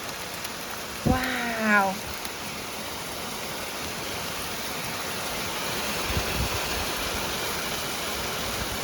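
Hail from Storm Eunice hisses as a steady, dense rattle outdoors on a UK roof, constant and moderately loud throughout, with a brief spoken exclamation near the start.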